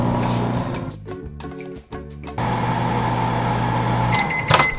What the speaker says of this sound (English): when you're gonna nuke it and microwave it, or even just melt it in general